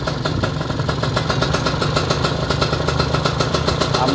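Kawasaki Ninja RR two-stroke motorcycle engine idling close by, fitted with a ZX piston, a steady rapid burbling putter with a faint rattle, running alone without speech.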